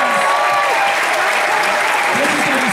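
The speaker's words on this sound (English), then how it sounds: "Give them a big round of applause" Steady, loud applause from a large crowd, continuous throughout, with faint cheering voices mixed in.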